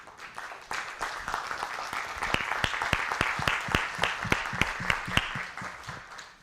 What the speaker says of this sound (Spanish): hoy quiero que se den un aplauso,